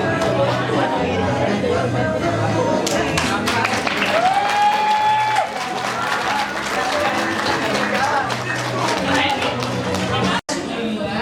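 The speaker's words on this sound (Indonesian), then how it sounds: "Beri tepuk tangan yang meriah." School audience at an Islamic high school performance applauding the cast, sustained clapping mixed with crowd chatter and a few shouts, fairly close, running throughout before dropping briefly near the end.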